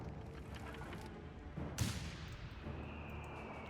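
A mortar fires in the video game Company of Heroes 3, one muffled boom standing out from a low rumble of distant battle noise, with a thin whine trailing after it.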